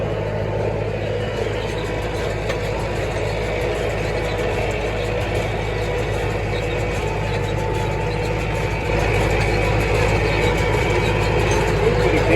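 A farm tractor runs steadily at about 1500 RPM in low third gear while baling the final hay of the season, a continuous, loud, even engine drone with a deep low rumble that barely changes throughout.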